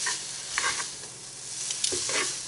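Onions sizzling in a frying pan, a steady broadband hiss with a few brief stirring scrapes, fairly close and moderately loud with no talking.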